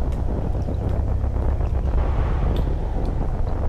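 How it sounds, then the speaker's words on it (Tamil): Strong wind blows across the open sea beside a fishing boat, a steady loud rushing roar with buffeting on the microphone throughout, and no voices. "காத்து கரையை பக்கம் அடிக்கிற மாதிரி இருக்குல்ல?"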